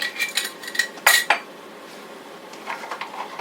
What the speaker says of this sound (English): first I'm going to cut up some garlic